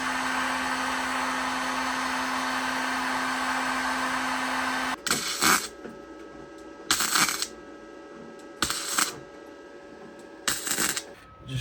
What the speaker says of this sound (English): Heat them up with the heat gun and then peel them off